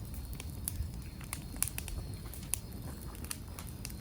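Corn roasting on glowing embers at an outdoor campfire, giving a soft steady hiss with scattered sharp crackles and pops, close by and with no voices.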